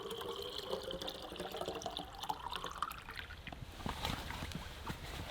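Water pours from a cap into a canteen outdoors in the wilderness, a close, gurgling trickle whose pitch rises as the vessel fills, then breaks into softer splashes and drips.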